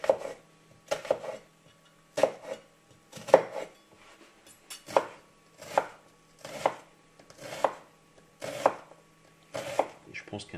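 Knife chopping a red onion on a cutting board, steady rhythmic strokes in about nine distinct bursts of quick chops, close and clear with no talk.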